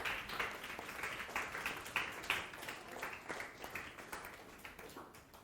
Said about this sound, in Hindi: तालियां बजाओ सबकी